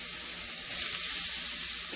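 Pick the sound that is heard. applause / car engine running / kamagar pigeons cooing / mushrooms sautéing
mushrooms sautéing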